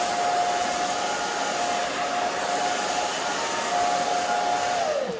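Hair dryer blow-drying a short bob on thin hair, a loud steady close whine and rush of air that holds throughout, then winds down at the end.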